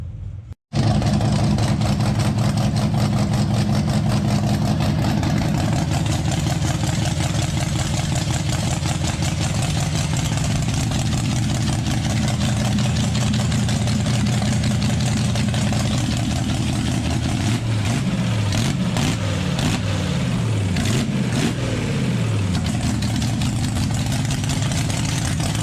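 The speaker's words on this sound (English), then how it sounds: "today is the last day the baby Hemi runs with the 2-barrel" A 241 Red Ram baby Hemi V8 with a 2-barrel carburetor starts and then idles loudly and steadily up close, with a brief, slightly uneven patch late on.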